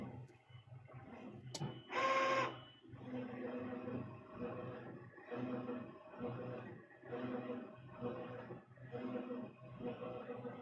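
Direct-to-garment printer printing T-shirts, its print head carriage sweeping back and forth in a steady repeating rhythm of mechanical passes, with a brief higher whir near the start and faint talk in the room.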